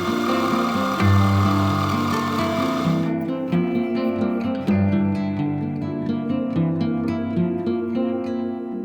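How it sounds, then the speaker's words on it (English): Milling machine with a boring head roughing out a cam cap for a homemade 150cc race engine, a steady tonal machining whine with shifting pitches running throughout, loud and close with no talk. "I've just chucked the boring head back in the mill, and I'm going to do some quick roughing"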